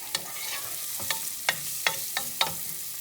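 Onion and celery sizzle in a pot as the base for chicken soup, a steady frying hiss broken by about six sharp scraping stir strokes, close and moderately loud with no talking.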